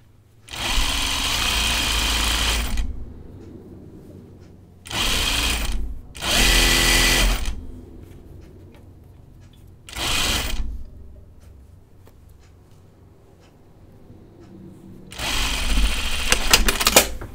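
A sewing machine stitches a Tea House dress in several loud, close bursts of fast, even running. The bursts vary from short to a couple of seconds and are separated by quiet gaps.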